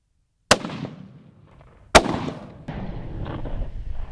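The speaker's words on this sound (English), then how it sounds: "I'm shooting an A-bolt 338 Winchester mag." Two loud, close rifle shots from a Browning A-Bolt in .338 Winchester Magnum fired outdoors while sighting in before an elk hunt, each a sharp crack with a long rolling echo, about 1.5 seconds apart.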